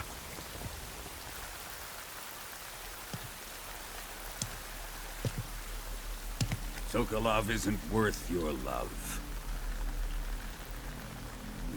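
Steady rain hisses over everything in a Metal Gear Solid 3 Delta cutscene, a constant wash with scattered drip-like ticks, while a character speaks partway through.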